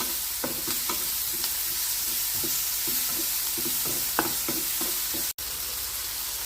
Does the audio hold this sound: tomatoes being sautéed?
yes